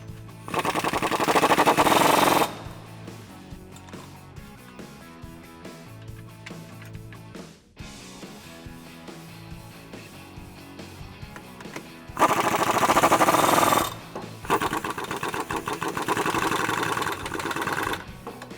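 A power tool drives a 13mm nut and washer onto a running board mounting stud on a 2015-2018 Ford F150 with Black Horse Off Road Black Armour boards. Three loud, buzzing bursts are separated by quieter stretches with faint background music.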